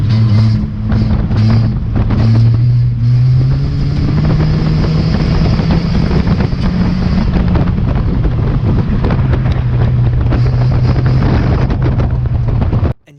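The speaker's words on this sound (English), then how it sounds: "my dad's away with a decent start and he's already catching up to the car in front" Race car engine roars loudly on a track during a race, heard up close with heavy wind buffeting over the microphone and the engine pitch rising and falling as the car accelerates.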